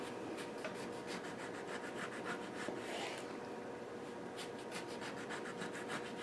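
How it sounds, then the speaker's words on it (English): A sharp knife cuts citrus fruit into very thin slices on a board, making repeated close, light rasping strokes in a steady rhythm, quiet and without voices. "we're going to cut this as thin as possible"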